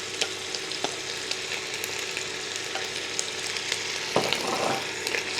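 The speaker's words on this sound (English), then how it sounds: "Just give that a bit of stirring. We just want to get the little bit of colour on them." Onion, carrot and celery sizzle steadily in a pan while a spoon stirs them, with intermittent scraping knocks and a louder clatter near the end.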